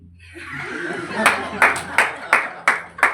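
Audience at a Hindi comedy poetry show breaks into scattered, uneven clapping, a crowd murmur swelling first before a series of sharp, distinct claps ring out at irregular intervals.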